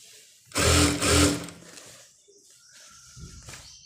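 Sewing machine stitching a satin long gown in two short, loud whirring bursts, the motor briefly stopping between them, followed by quieter handling of the fabric.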